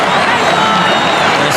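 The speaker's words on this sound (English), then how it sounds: "listen to the jeers, the Bronx cheer from the Essendon crowd" Essendon fans in a packed stadium at a 1984 VFL preliminary final jeer with a loud, sustained roar and shrill whistles, a dense wall of crowd noise.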